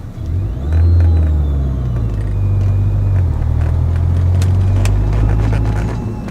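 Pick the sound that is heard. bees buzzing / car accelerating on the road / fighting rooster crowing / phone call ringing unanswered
car accelerating on the road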